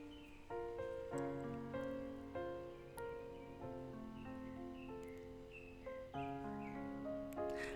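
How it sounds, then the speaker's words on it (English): Birds call outdoors, a series of clear, repeated cawing notes that rise and fall with short pauses, fairly close and moderately loud. "I don't know if you can hear the little birds in the background."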